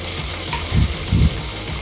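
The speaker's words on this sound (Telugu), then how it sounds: "అలాగే దీంతోపాటు పచ్చిమిరపకాయ ముక్కలు కూడా వేసి కొంచెం వేయించాలండి." Tomato pieces and green chillies frying in oil with ginger garlic paste in a pan, a steady close sizzle with two louder bursts of stirring and spattering in the middle.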